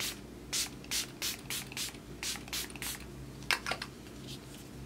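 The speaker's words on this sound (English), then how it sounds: "to set everything, I'm gonna go in with my Milani Make It Last setting spray." A rapid run of short, crisp bursts of Milani Make It Last setting spray sprayed onto a face, some doubled, hissing close to the microphone over a faint background hum.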